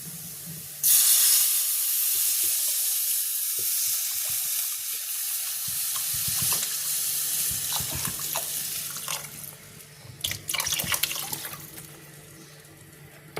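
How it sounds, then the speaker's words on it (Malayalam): Water pours steadily into a pan of simmering fish curry, a continuous close splashing rush with hissing steam, rising into a burst of clatter and splashes near the end. "നമുക്കിനി ഇതിനകത്തേക്ക് വെള്ളം ചേർക്കാം."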